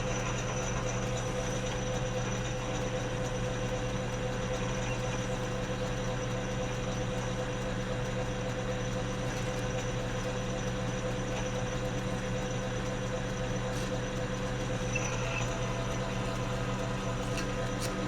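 A metal lathe runs steadily while a drill bit is sharpened in a Black Diamond drill grinder. It gives a constant mechanical hum with a faint gear whir and clatter, close and even throughout, with no talking.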